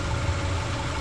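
A bugeye car's engine idles steadily, a close, even low rumble that holds for about a second with no voices.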